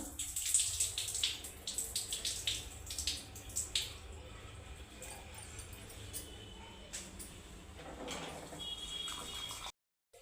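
Running tap water pouring over soaked dried shrimp being washed in a kitchen, a continuous splashing flow with brighter bursts, close by, briefly cutting out at the end, with a voice talking over it.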